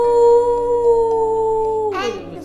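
A long, steady, tonal howl like a wolf's holds one pitch and then slides down at the end, loud and close, with no talk over it.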